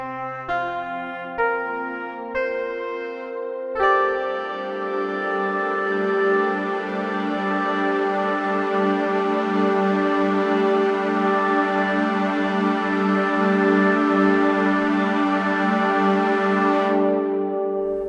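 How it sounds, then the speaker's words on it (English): A synth preset in Oscidia on iOS layering a supersaw with a wavetable: a few short stabbed chords, then one long bright sustained chord with slow movement that cuts off near the end, loud and alone. "So here we've thrown together a preset that has a supersaw and a wavetable, and it sounds like this."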